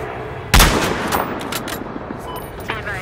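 A single sharp M1903 sniper rifle shot rings out in Battlefield Hardline, loud and close with a lingering reverberant tail, followed by fainter distant game gunfire and ambient battle noise.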